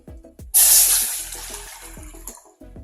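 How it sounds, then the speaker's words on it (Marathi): Water pours steadily into a pot on a gas stove for about two seconds, a loud, close splashing gush that tapers off near the end. "दीड तांब्या पाणी घालत आहे"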